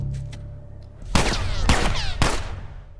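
Gunfire in The Last of Us: a few loud, close shots ring out in quick succession within a couple of seconds, each with a sharp crack and a ringing tail over quiet game ambience.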